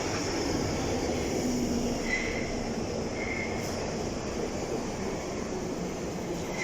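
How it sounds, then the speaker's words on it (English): A London train arriving at the Wembley Central platform, a steady loud rumble and rolling wheel noise with faint brake squeals, continuous throughout and close by. "this train's coming 1 minute early"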